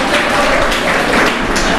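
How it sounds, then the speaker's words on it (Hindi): Crowd applause at a ceremony honouring women who pledged their bodies to AIIMS hospital after death, a steady roar of clapping with a voice speaking over it. "एक बार उनके लिए जोरदार तालियां"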